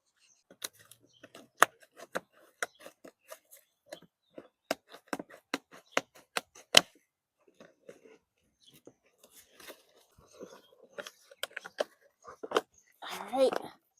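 Hand pruners snip through the roots of a potted palm or canna lily to free it from its container, a string of crisp cuts and crunchy snaps at close range, irregular and spaced out, with rustling between them.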